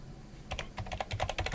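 Quick bursts of typing on a computer keyboard, a dozen or so crisp close key clicks in an irregular rhythm after a short quiet start, faint and alone.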